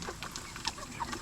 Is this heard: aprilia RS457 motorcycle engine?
no